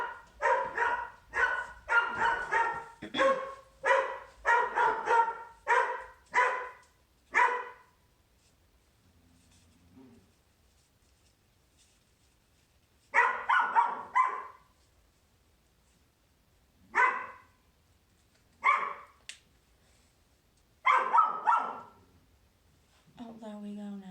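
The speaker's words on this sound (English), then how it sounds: "He like pierces me with that bark." A dog gives a quick run of sharp, loud barks close by, then pauses and barks again in scattered single barks and short bursts.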